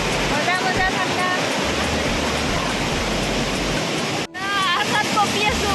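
Rushing river water mixed with gusting wind and rain in Shillong, a dense steady roar throughout with a brief dropout near the end, while people talk over it.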